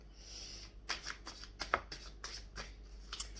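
Tarot cards being shuffled by hand during a card reading, several soft riffling bursts and slaps at uneven intervals, close and quiet with no voice over them.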